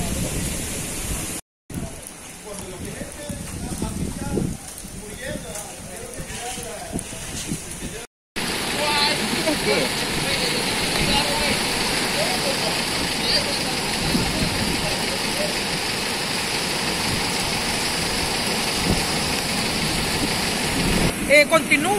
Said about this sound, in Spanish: Continúa, sigue la lluvia, continúa los vientos, la intensidad de los vientos como que está más fuerte en estos momentos.